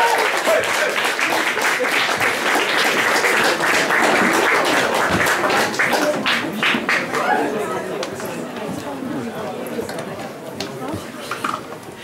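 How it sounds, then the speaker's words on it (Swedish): A live concert audience at Kägelbanan in Stockholm breaks into loud, dense applause with scattered chatter, the clapping thinning and fading over about twelve seconds. "En stor applåd."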